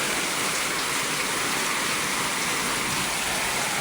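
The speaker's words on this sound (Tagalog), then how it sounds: "Ang lakas ng ulan." Heavy rain pours down steadily outdoors in a Philippine neighbourhood, a dense, loud, unbroken hiss with no voices.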